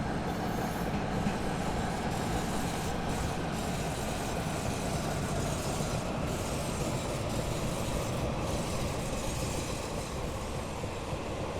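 A Class 175 diesel multiple unit in Train Simulator runs on the South Wales Coastal line, giving a steady, loud rumbling engine and rail drone that holds evenly throughout with no voices.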